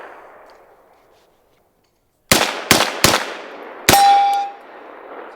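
Sig Rattler rifle firing supersonic rounds with no suppressor: after a quiet lead-in, four loud, sharp unsuppressed cracks ring out, three in quick succession and a fourth after a pause, followed by a brief metallic ring.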